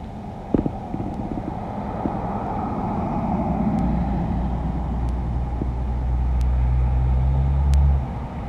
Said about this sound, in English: Sorry, loud truck, guys.